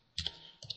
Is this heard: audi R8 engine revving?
no